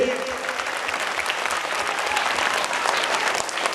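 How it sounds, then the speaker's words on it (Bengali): An audience claps steadily at a school golden jubilee prize-giving, a dense, even wash of applause filling the hall, with a faint voice beneath it. "ভিটা এমপি ইনস্টিটিউশনের জন্য আরো জোরে হাততালি।"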